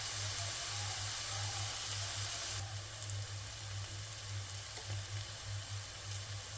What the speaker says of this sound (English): I'm going to cook the onion and the garlic until they are